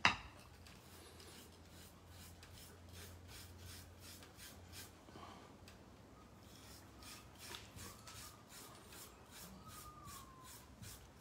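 A makeup brush is sanded by hand in a quiet room, giving repeated soft, rhythmic rasping strokes up close, steady and fairly faint, with a low hum beneath.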